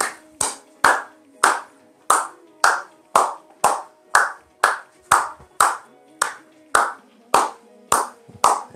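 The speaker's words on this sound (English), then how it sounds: "I'm just going to clap my hands and show you what that's like" Single sharp hand claps, about fifteen in a steady, evenly spaced rhythm, close and loud in a quiet room, setting off the sound-active mode of an OPPSK LED stage wash light bar.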